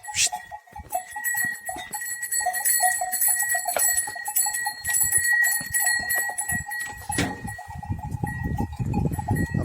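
A flock of sheep heads outside with many jangling bells ringing in irregular clusters, plus shuffling hooves and a few bleats nearby.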